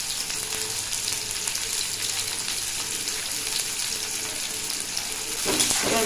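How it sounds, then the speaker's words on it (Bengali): Onion and garlic frying in a pan, a steady, close hiss of sizzling oil throughout with light stirring, a louder scraping stir near the end. "এবার ভালো করে ভেজে নেব"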